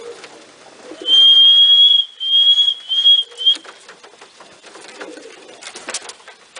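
Racing pigeons at a loft, with soft cooing and bird calls, one clear sustained whistle-like tone for a couple of seconds, then scattered faint rustling and shuffling nearby.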